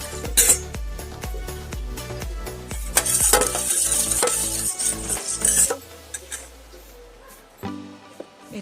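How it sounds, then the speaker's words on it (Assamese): Eggs are beaten with a spatula in a bowl for a glass cake, a rapid run of rhythmic clacking and whisking strokes up close, then a few slower scrapes before trailing off. "আৰু গোটেই কণীখিনি হেতা এখনেৰে ভালদৰে মঠি লৈছোঁ।"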